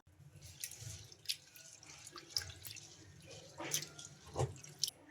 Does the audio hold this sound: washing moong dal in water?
yes